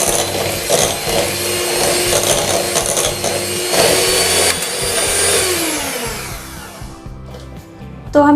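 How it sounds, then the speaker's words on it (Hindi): An electric mixer whirs steadily while blending fruit salad curd with added milk, a continuous motor drone with grinding texture that winds down and stops near the end. "इसमें हाफ कप दूध मिला देते हैं। तो इसे फिर से मिक्स कर लेंगे।"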